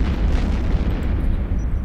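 Missile explosions in the space game EVE Online, a loud, deep rumbling boom with rolling low-end blasts filling the short stretch, no voices over it.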